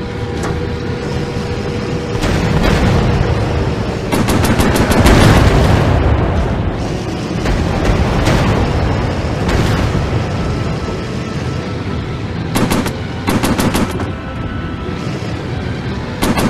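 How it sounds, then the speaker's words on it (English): Repeated machine-gun bursts from a warplane in Warplanes: Battle Over Pacific, rapid rattling volleys over a constant roaring engine drone, with heavier booms and several short staccato bursts near the end. "Overheated the machine guns."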